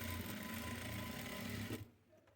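A sewing machine runs steadily, stitching a top stitch along a dress slit opening, with a continuous close mechanical whir that stops abruptly near the end.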